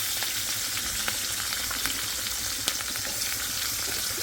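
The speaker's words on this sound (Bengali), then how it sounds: "মাছ ভাজতেছি" Fish frying in a pan in a home kitchen, a continuous dense sizzle and crackle with scattered sharp pops, close and steady throughout.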